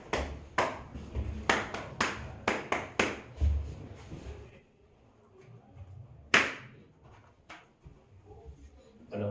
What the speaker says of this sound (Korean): 응원의 박수.